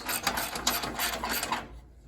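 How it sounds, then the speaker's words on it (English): A ratchet tightening the muffler bolts on a John Deere L130 riding mower, giving a close, steady run of rapid clicking and rasping for under two seconds before it stops. "now we'll tighten these muffler bolts back up."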